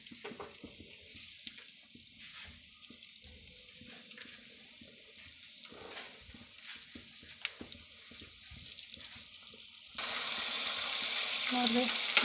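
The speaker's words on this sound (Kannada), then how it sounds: "ನೋಡಿರಿ ಎಣ್ಣೆ ಕಾದೈತಿ. ಮೋದಕ ಬಿಡ್ತೀನಿ ಒಂದೊಂದು." Modak dumplings dropped one by one into hot oil: a quiet stretch of soft clicks and handling noises, then a sudden, sustained bubbling sizzle for the last couple of seconds.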